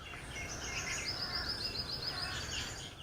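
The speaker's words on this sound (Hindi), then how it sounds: "परिंद की चहचहाहट।" Small birds chirp at a quiet farm, their thin high twittering faint and distant over a steady hiss of outdoor background noise, with no voices.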